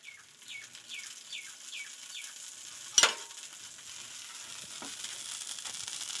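Oil sizzles and crackles steadily in a pan for dosa, with a sharp clatter midway and a few bird-like chirps at the start.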